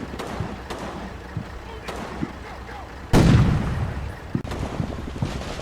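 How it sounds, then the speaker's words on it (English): Assault gun in the Combat Mission wargame firing on enemy foxholes: one big loud blast lands midway, with a rumbling tail and lighter pops scattered around it, and talk running beneath. "The assault gun that I've assigned to 3rd Platoon gets a spot on the enemy foxholes and starts putting down some fire on those positions"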